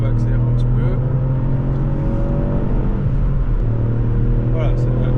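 A 200 hp Ford Fiesta ST accelerates on a road with a small bend, its engine a steady, loud, close drone with a low rumble throughout, while someone talks over it.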